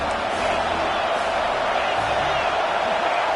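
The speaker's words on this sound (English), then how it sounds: "This crowd knows when to bring it." Stadium crowd in the College Football 26 video game, a sustained roar of cheering that stays even throughout, with a commentator's voice partly mixed in.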